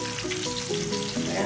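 Food frying in a pan in a home kitchen in Kuwait, a close, steady crackling sizzle with faint stirring, heard alone.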